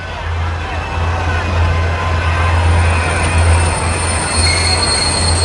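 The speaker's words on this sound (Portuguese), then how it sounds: "uma mulher bêbada caiu nos trilhos bem na frente de um trem que se aproximava" A Boston subway train approaching along the tracks, a loud, close, continuous low rumble with high metallic wheel and brake squeal rising over it, and a voice faintly present beneath.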